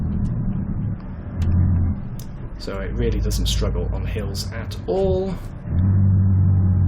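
A 530-horsepower Scania R or S truck in Euro Truck Simulator 2 rumbles loudly as it climbs, its engine note dropping and surging through gear changes with a braking growl, heard beneath steady close-up talk.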